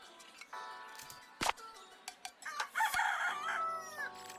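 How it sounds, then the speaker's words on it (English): A cartoonish rooster crows in the Minami Lane village game, a bright drawn-out cock-a-doodle-doo with clucks and little chimes around it, quiet and game-like. "I'll never get over that rooster."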